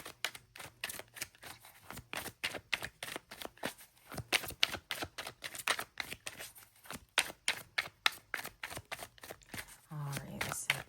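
Holographic mahogany tarot cards are shuffled in rapid, rhythmic riffling bursts, close and crisp, with a brief voice near the end.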